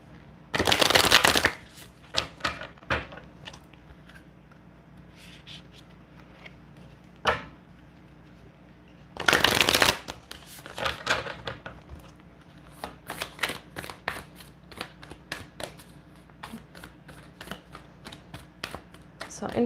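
Oracle and tarot cards are shuffled up close in two loud riffling bursts, surrounded by many lighter taps, slides and card placements. No one speaks.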